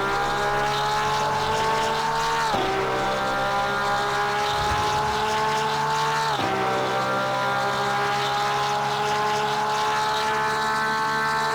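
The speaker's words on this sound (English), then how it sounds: "So we're going to jump behind the car." Porsche 992 GT3R race car engine in Assetto Corsa Competizione, a loud continuous high-revving drone with two quick upshifts dropping the pitch before it climbs again, steady and alone.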